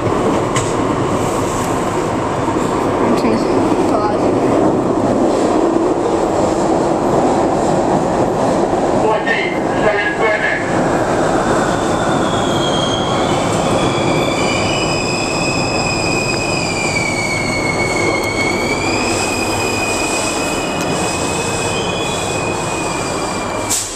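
A New York subway train at Christopher Street runs loud and close with a continuous rumble, then high wheel squeals rise and waver for several seconds as it moves through; voices talk faintly underneath.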